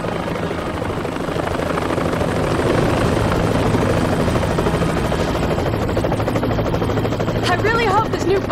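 A helicopter descends for a landing in a Resident Evil: The Umbrella Chronicles cutscene, its loud, steady rotor thumping and engine roar filling the scene while characters talk over it.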